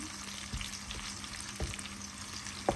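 Onions sizzle steadily in hot oil as they fry toward a reddish colour, a soft continuous crackle with a few louder pops and taps from a spoon against the pan.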